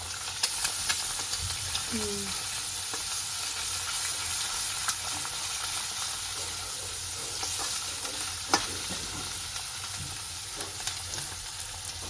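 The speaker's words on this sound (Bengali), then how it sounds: "ডিমটাকে একটুখানি ফ্রাই করবো।" An egg fries in a pan with vegetables for chow mein, giving a steady soft sizzle with occasional stirring scrapes and clicks, close and continuous throughout.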